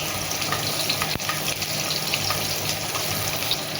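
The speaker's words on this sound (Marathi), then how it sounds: "आता याच्यामध्ये आपण घालायचा आहे हा स्लाइस केलेला कांदा आहे, तो घालायचा आहे." Sliced onion fries in a pot for a pilaf or biryani, giving a steady, loud, close sizzle with light stirring clatter and one brief knock, with no talking.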